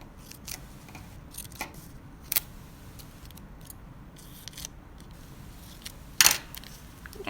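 Scissors snipping a paper shape for a Kandinsky-style abstract collage: sparse, crisp close-up cuts and clicks spread irregularly over several seconds against a quiet room, with one louder sharp snip near the end.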